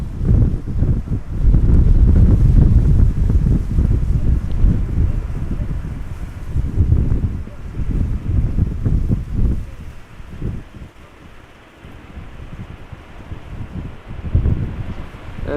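Strong crosswind gusts at Amsterdam Schiphol Airport, blowing in a loud, steady rush that buffets the microphone, swelling and easing over the span with no voices.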